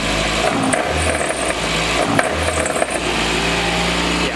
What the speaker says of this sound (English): it sounds horrible. Yeah, as you guys can hear that clank on startup, it's kind of like whining a little bit now, but just listen to it when I rev up